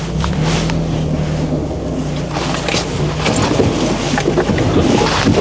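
A car driving along a road on a winter outing near an ice-fishing spot, steady low road and engine rumble with tire noise filling the whole stretch, no talking.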